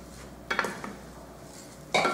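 Half a cup of rice being sautéed in a pan with a spatula, two short scraping, clinking bursts of stirring against a quiet background with no talk.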